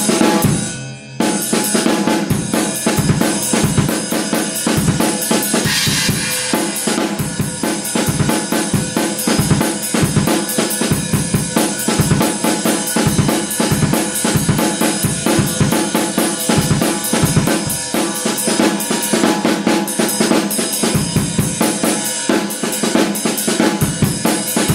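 Sped-up, chopped and rearranged drum break beats, a fast, dense breakbeat of kicks, snares and cymbals looping steadily and loudly for the whole stretch with no talking.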